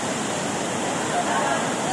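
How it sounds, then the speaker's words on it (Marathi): A scenic waterfall at Bhendewadi produces a steady, broadband rush of falling water, continuous and fairly loud throughout with no pauses. "अतिशय नयनरम्य असा हा धबधबा असून"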